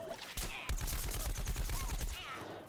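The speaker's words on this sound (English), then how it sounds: "And I'm being shot." Rapid gunfire in Plants vs. Zombies: Garden Warfare 2 on PS5, a dense burst of repeated shots striking the player, loud and continuous for a couple of seconds with other game sounds mixed in.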